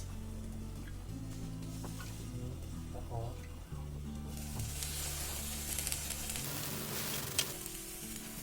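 Hash browns fry under a closed lid in a pan, a faint continuous sizzle beneath steady background music.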